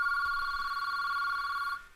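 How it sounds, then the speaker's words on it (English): A desk telephone on extension 2222 rings for an incoming voice call placed across a networking lab. A steady, close electronic ring tone holds for nearly two seconds, then cuts off abruptly. "We can hear that phone ringing."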